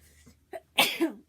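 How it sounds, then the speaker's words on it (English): A single sneeze, preceded by a couple of faint breaths, short and fairly quiet at close range, with no talk. "I've been sneezing more since spring has been springing upon us."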